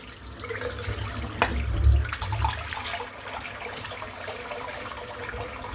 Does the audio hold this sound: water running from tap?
yes